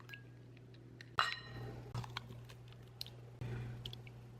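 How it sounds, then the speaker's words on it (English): Eggs are cracked into a separate bowl: a few faint, sharp shell cracks and clinks against the bowl, with quiet squishy sounds between them. "So I'm going to crack these into a separate bowl."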